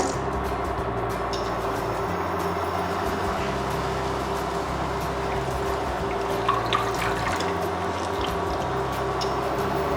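Apples being washed under running water, a steady broadband rush of liquid with small drips and splashes throughout, fairly loud and continuous with no talking, heard during preparation of apple kheer.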